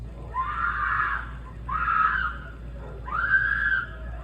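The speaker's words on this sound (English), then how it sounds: "Residents heard those screams and called 911." Three drawn-out, piercing screams caught on a doorbell camera during a possible kidnapping late at night along a residential avenue in Leimert Park. They sound somewhat distant, with short pauses between them and faint background hiss.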